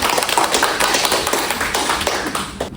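A school class applauds together after students answer a lesson question about sound waves, dense fast clapping filling the room steadily and fairly loud throughout, with no talking over it.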